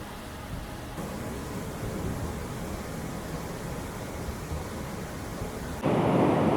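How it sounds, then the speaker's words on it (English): Bracklinn Falls in Scotland running high, a lot of water pouring over the rocks as a steady broad rushing roar, fairly distant and even, swelling louder near the end. "there is a lot of water going over the falls"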